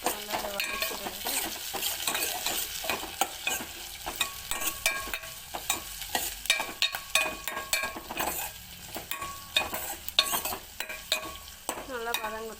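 Ingredients for drumstick kara kuzhambu sautéing in a pan, with repeated scraping and clinking stirs over a constant sizzle, close and busy throughout.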